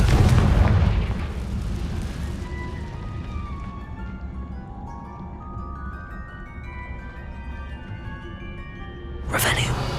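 A loud, booming fire-spell blast from Confringo in the video game Hogwarts Legacy bursts at the start and fades into a rumbling tail over a musical score, with a second sharp burst near the end.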